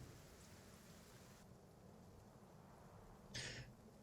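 Steady soft rain hiss plays as ambience during a tabletop role-playing session, a faint continuous wash with a brief brighter burst near the end.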